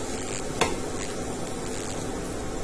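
A spatula keeps stirring cashew powder through melted sugar in a pan for kaju katli, a dense close scraping hiss with one sharper knock against the pan.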